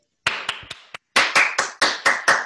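Eight separate sharp claps after an online talk, four quick ones, a brief pause, then four fuller, louder ones, with no crowd wash behind them, as if one or two people clap close by.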